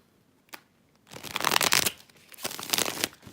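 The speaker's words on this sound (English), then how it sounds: "One more shuffle, okay?" A deck of tarot cards is shuffled close by in two riffling bursts, preceded by a single soft tap, with no speech.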